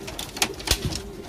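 Fighting pigeons coo in a short close call with a soft throaty pulse, alongside faint rustling around their coop.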